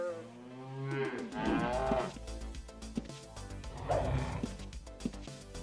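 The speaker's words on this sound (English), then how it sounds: "These cows don't stand a chance." Cows moo in the Ultima Online video game, giving two long, low, drawn-out calls a few seconds apart, clear and close, with a few short thuds in between and no speech.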